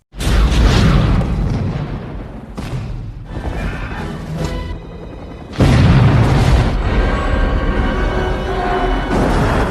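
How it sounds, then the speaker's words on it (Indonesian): Loud booming blasts roar through a film soundtrack as a helicopter explodes, a sustained explosion rumbling and then a second big burst hitting, with crackling debris trailing off. "Namun helikopter yang tadi ikut meledak karena terkena ledakan tadi"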